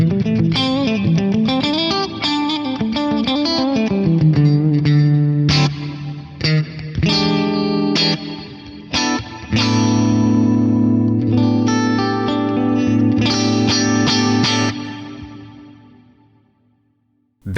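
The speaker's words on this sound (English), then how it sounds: "this is going to be a much more pronounced wobbly reverb the way we set it up" Electric guitar through a stereo tri-chorus modulated reverb set to high depth and fast rate, ringing out sustained, wobbling chords and single notes loudly for most of the passage before decaying into a fading tail.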